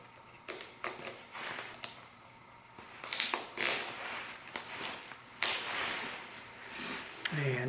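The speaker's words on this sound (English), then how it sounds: "here's this goofy buckle system here" A buckle on a backcountry XCD cross-country ski boot is ratcheted and cinched down, making a series of sharp plastic clicks and snaps at irregular intervals, close to the mic with quiet gaps between.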